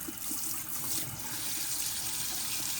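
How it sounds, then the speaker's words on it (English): Lukewarm tap water runs steadily as old, broken-down potting soil is washed off the roots of an old violet being repotted, a continuous close splashing trickle with no talking. "I'm just going to wash it off. I'll be using some lukewarm water, not cold, not hot, just lukewarm."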